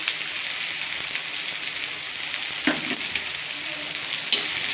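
Chopped onions with garlic, ginger and green chillies frying in hot oil: a loud, continuous close-up sizzle with a few brief stirring clatters and no talk over it.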